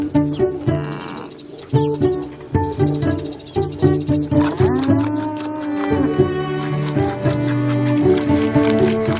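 Cattle on a small farm kept by a couple alongside goats, lowing in a series of loud, close moos with a steady rhythm and a continuous low bellow toward the end.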